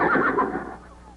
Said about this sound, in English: Sounded like a horse.